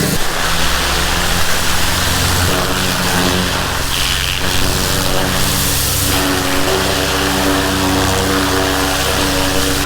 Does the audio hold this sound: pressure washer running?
yes